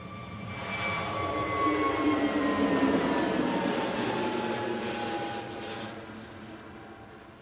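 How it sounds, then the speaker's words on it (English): An EasyJet Airbus A320 jet on the Manchester to Krakow route roars past at moderate distance, its engine noise swelling to a peak and then slowly fading. "This next one is Manchester to Krakow, EasyJet A320"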